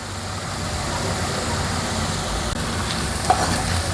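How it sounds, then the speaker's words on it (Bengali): Spice paste fries on medium heat in a steady, even sizzle, with a single brief utensil clink near the end. "এখানে আমি একটু মিডিয়াম আঁচে করে নিচ্ছি, খুব বাড়াতে হবে না, জাস্ট মশলাটা ভাজার জন্য"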